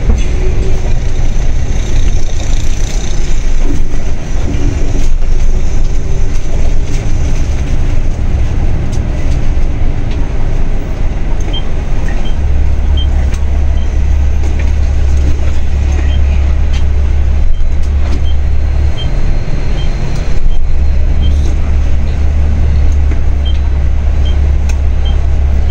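A tour bus drives along with a loud, steady low engine rumble and road noise heard from inside, continuous throughout with a few faint rattles.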